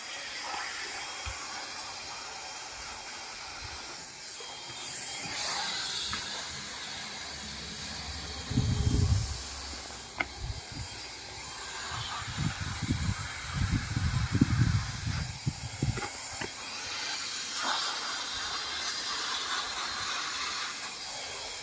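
While the bottom of a tent curtain is being heat-sealed, a soft hiss holds steady, and bursts of low thumping and rustling break in around the middle.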